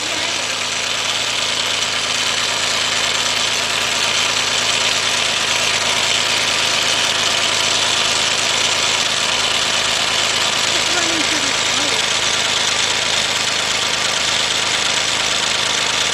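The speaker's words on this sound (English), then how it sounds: "It doesn't sound like anything's wrong with the engine. I mean, it's running." A Chevy Equinox or Buick Rendezvous engine idles steadily and loudly throughout, a constant broadband running drone with a faint knocking texture, and a voice talks briefly over it.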